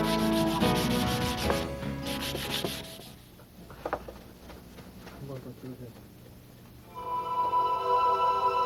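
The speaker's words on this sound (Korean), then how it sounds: "사포로 곱게 밀고서 광을 낸다." Rhythmic rubbing strokes of sandpaper scrape across a cow horn surface, loud at first, then pausing and resuming, with a voice speaking partway through.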